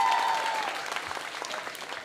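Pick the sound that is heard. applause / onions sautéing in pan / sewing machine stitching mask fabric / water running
applause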